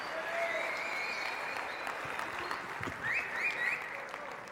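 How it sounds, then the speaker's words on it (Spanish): Campers at a summer camp session applaud their team captains, a soft wash of many hands clapping in a room, fairly faint and steady, with a few shrill whoops or whistles rising near the end. "Dale un aplauso a los capitanes."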